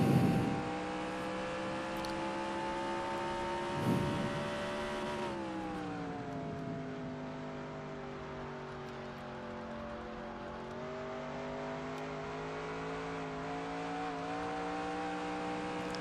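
Race car engine at sustained full throttle in NASCAR Racing 2003, a loud steady drone that briefly revs up near the start, then holds its tone, dipping slightly as gears or speed shift, with no talking.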